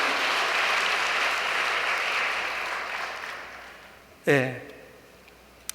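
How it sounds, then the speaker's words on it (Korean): An audience at a large hall gives sustained applause of thanks, a broad steady clapping wash that slowly fades out, followed by a brief voice as the room quiets. "어머님을 위해서 다시 한번 감사의 박수를 부탁드리겠습니다."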